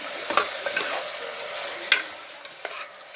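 Ginger-garlic-chilli paste is stirred into frying onions for mutton curry, giving a bright continuous sizzle with several sharp spoon scrapes against the pan, close up and without talk.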